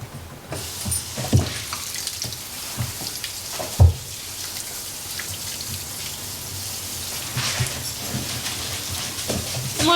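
Garden thyme and vegetables rinsed in batches under a running tap, a steady close hiss of water splashing with a few brief louder knocks and splatters.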